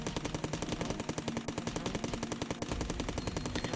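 Rapid automatic gunfire from a weapon in the PC video game Cally's Trials, a continuous fast rattling stream of shots at an even rhythm, loud and close with no talking.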